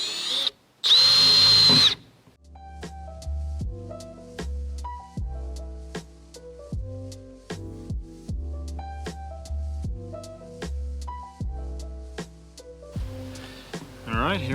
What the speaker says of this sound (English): take a 1/2 inch bit, bore that out a little bit further, and then I'll be able to fit in the jigsaw's bit